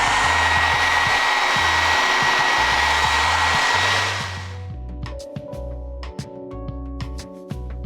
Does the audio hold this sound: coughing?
no